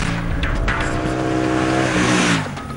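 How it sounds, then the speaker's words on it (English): A Triumph Thruxton motorcycle in sport mode revs hard, its exhaust giving a loud, raspy, rising and falling engine note close by, with no speech. "Switch to sport mode, rev it hard, and you're greeted with a raughty exhaust note."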